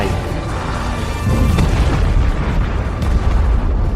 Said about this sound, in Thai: เบ็กยิ้มเยาะและกดปุ่มระเบิด